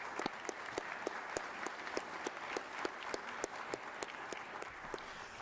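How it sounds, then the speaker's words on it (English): Volunteer recognition awards ceremony crowd applauds steadily, a faint, distant bed of clapping punctuated by regular crisp claps from someone close by, continuing without pause throughout. "So I'd like to give you a round of applause for what you've done for us."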